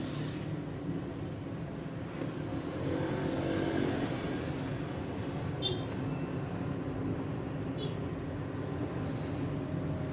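A manual car's engine steadily pulls and accelerates on a public road during a driving lesson, a continuous low drone with faint road noise and no talk.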